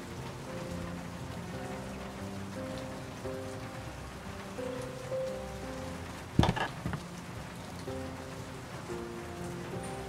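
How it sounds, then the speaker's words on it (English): Rain beats steadily against an office window in the video game World of Goo 2, a constant wash of patter under soft background music, with one sharper burst partway through. "The rain beats against the office window"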